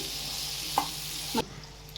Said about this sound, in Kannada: ಇದು ಮತ್ತೆ ಮಿಕ್ಸ್ ಮಾಡ್ಕೊಳ್ಳೋಣ ಚೆನ್ನಾಗಿ